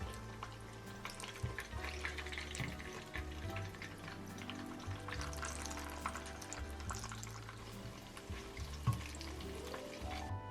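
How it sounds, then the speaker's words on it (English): Eggplant slices fry in oil until golden brown, giving a continuous crackling sizzle with steady bubbling throughout, close and fairly loud. "I let it fry until it was golden brown on both sides"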